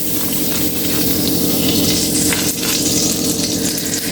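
Butter sizzles loudly in hot oil in a pan as the start of a green peas rice, a steady close-up frying hiss that carries on unbroken with no talking.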